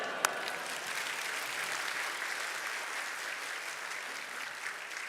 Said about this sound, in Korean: 우리 할렐루야와 힘찬 박수로 우리 맞이하도록 하겠습니다